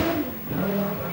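Hannu Mikkola's rally car passes at about 85 mph into a left-hand bend on the 1985 RAC Rally, a loud engine note that rises and shifts pitch as it sweeps by close, tyres scrabbling on the surface.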